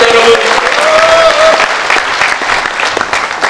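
An audience at a political rally of regional council members claps loudly and continuously, dense applause near and sustained throughout, with a brief tonal voice or feedback early on.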